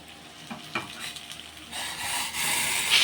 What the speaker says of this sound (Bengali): এইবারে জলটা ফুটছে, এই জলটা এবারে ঢেলে দেবো